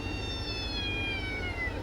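A brown Persian Exotic cat meows in drawn-out, rising and falling cries, fairly close and clear over a low background rumble.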